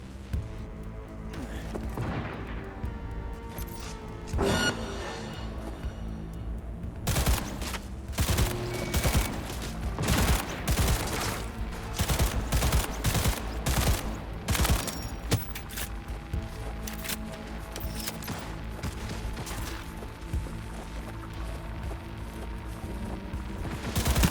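Heavy firefight in Cyberpunk 2077, with bursts of gunfire, booming impacts and crashing debris piling up over a loud, busy mix that keeps going throughout, punctuated by sharp explosive hits.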